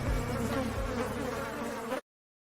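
A loud, steady insect buzz like a bee or wasp drones continuously for about two seconds and then cuts off abruptly, used as a stinger sound effect for a sports segment, with no talking over it.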